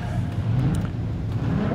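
Street stock race car engine at a country speedway, a steady loud low roar that swells and holds throughout, sounding close with no talk over it.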